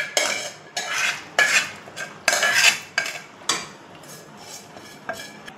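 Boiled chana dal tipped into a kadai and stirred for payasam, a run of sharp clattering scrapes and knocks of a utensil against the metal pan, loud and close, with no talking.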